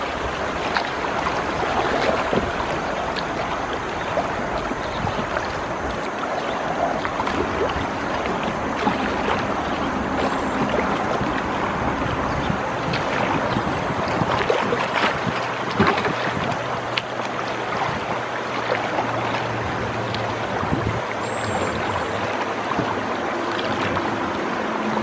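River rapids on Swatara Creek wash and rush continuously around a kayak, a broad steady roar of moving water with occasional paddle splashes and wind buffeting the microphone, and no voices.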